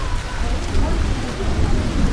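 Steady normal rain pouring in Darjeeling just after a hailstorm, a dense continuous hiss close by with a low rumble underneath.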